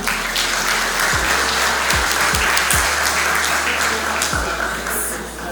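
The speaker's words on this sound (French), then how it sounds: "On l'applaudit encore une fois" A crowd applauds steadily throughout at an official business-sector launch ceremony, dense clapping with a few louder thumps, no voices over it.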